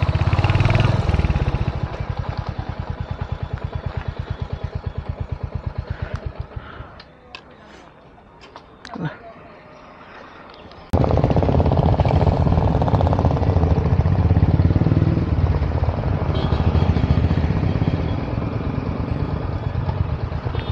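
An off-road motorcycle ride on rough trails, the engine putting loudly and steadily, dropping away for several seconds mid-clip with a few clicks and knocks before roaring back up, with a voice talking over it.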